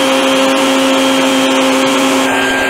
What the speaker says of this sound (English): let's try out the new bucket head vacuum cleaner